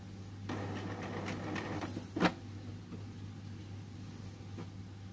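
A Canon MG2570S inkjet printer powers on with a low steady motor hum and soft mechanical whirring, broken by one sharper clack midway, fairly quiet and close with no talk.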